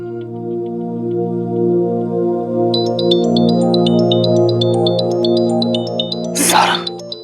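A phone rings with a repeating electronic melody over a sustained musical backdrop, followed by a short burst of noise as the call is picked up.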